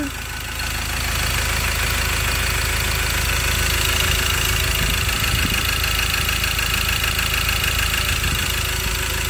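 A Ford Ranger single-cab 4x4 pickup engine idles steadily and smoothly nearby, a constant low rumble with no talking.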